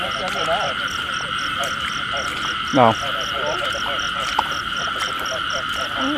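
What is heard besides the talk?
frogs croaking in a field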